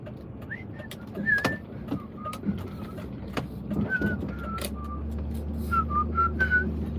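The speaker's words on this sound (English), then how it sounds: "I can halfway whistle with my teeth in." A person wearing dentures whistles short, wavering notes in scattered phrases, fairly close, with clicks and household noise between and a low hum underneath.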